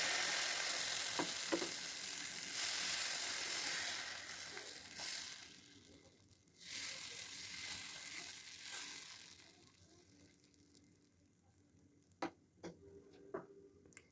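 Patishapta batter on a hot tawa makes a steady close sizzle that fades down over time, with occasional ticks and scrapes near the end.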